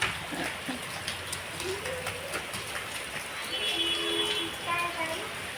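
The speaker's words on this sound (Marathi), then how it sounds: "मस्त जोरात पाऊस सुरू झाला" Heavy rain pours down in a steady broadband hiss throughout, a constant wash with voices, including a child's, talking over it.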